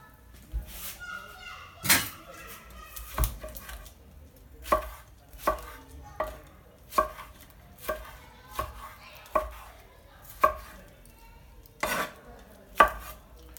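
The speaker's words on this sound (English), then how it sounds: "one tomato chopped" A tomato being chopped on a board for a broccoli salad, about a dozen crisp knife strikes in a steady rhythm, close by, with children's voices and brief talk in the background.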